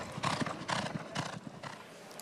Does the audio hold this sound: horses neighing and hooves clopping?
yes